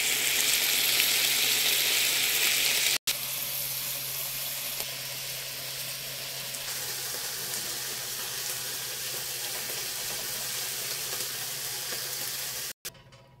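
Nopales and chiles roasting on a hot comal make a steady, close sizzling hiss that runs the whole time, with one brief dropout early on and another near the end.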